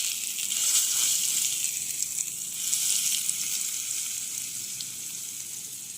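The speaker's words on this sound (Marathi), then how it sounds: "चटणीवर आपण हा तडका घालून घेऊया" Hot tempering with two dried red chillies poured onto fresh coconut chutney, making a steady, bright sizzle that crackles and slowly fades over several seconds.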